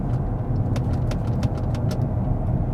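A £2000 Range Rover stuck in second gear at 30 mph and about 3,000 RPM. The engine holds a steady, strained drone from inside the cabin, with faint road rumble and no change in pitch.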